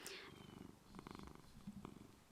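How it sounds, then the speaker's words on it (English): A house cat purrs in a steady, rumbling pulse close to a microphone in a home podcast room, alongside soft rubbing and handling noises. "If you hear purring, that's the cat."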